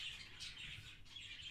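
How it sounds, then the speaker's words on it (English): Small exotic birds in a bird store's breeding room give quick, high chirps and tweets in several short bursts, faint and fairly close, with no talk. "this is the breeding room for some of the smaller birds"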